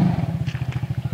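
Off-road four-wheel-drive vehicle locked in four-wheel drive, rocking back and forth in a mud bog, its engine pulsing in quick rhythmic throbs, close and loud, with voices nearby.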